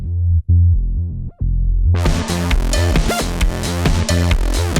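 Synthesizer music plays an outro: a low, pulsing bass pattern first, then bright full chords and busy layered tones kick in, loud and steady.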